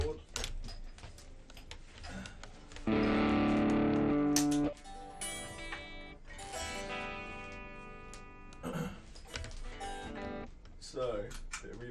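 An electric guitar for the intro of 'Somebody Else' plays through a keyboard rig, with picked notes and a sustained chord ringing out under reverb and delay, and someone talking over parts of it.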